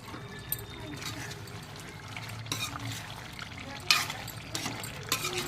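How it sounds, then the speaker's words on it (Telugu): Chicken frying in oil in a pan, close sizzling with scraping stirring bursts and clattering utensil strokes at irregular moments. "మళ్ళీ మంచిగా ఫ్రై కానివ్వాలి."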